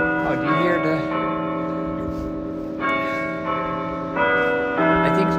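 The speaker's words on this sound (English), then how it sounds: "I think the church bells." Church bells ring out over Amsterdam, overlapping sustained peals that swell and fade as new strikes land, with a person talking faintly underneath.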